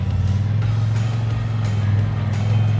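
A Triumph Bonneville T100 motorcycle engine running steadily while riding through city streets, a loud, continuous low rumble close up with no pauses.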